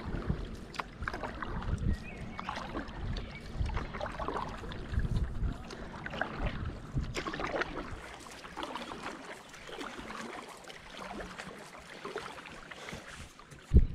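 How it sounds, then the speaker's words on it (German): Stand-up paddleboard strokes on Wörthsee, a lake in Bavaria, pass among moored boats as water splashes and gurgles steadily around the board, with wind buffeting the microphone throughout. "wir paddeln jetzt hier weiter durch die Boote durch"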